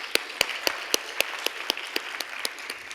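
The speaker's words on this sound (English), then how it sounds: "A huge round of applause." Sparse, evenly spaced handclaps at a corporate panel session on employee experience and wellbeing, about a dozen crisp claps in a steady rhythm, moderately close, with no talking.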